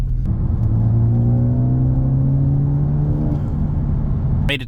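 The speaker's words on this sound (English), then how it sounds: "2013 Focus ST." A 2013 Ford Focus ST accelerates hard from close by, its engine note climbing steadily in pitch through the gears for several seconds as a loud, continuous rumble before cutting off abruptly.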